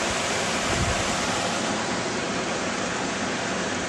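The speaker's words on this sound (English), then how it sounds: "all you can do is hear the water shooting underneath them" Spring water at Fossil Creek, Arizona rushes hidden beneath dense blackberry bushes, a steady, loud, even hiss of flowing water that stays constant throughout with no voices.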